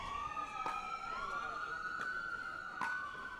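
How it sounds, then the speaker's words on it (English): An ambulance siren wails in rising and falling sweeps as it passes near an outdoor pro mixed doubles match at Hilton Head. Several sharp clicks and taps cut through the steady, fairly distant siren. "Just waiting for the ambulance to roll by."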